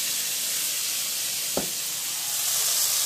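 Masala spices frying in leftover oil give off a steady, loud hiss, with a single brief knock partway through and no voices.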